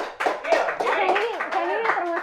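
A studio audience and hosts clap for a guest at the close of a talk-show consultation episode, with scattered hand claps mixed under lively overlapping voices and laughter throughout.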